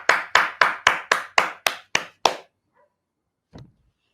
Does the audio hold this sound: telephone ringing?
no